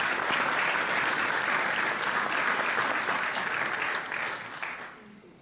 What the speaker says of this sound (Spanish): Fuertes aplausos para el honorable director.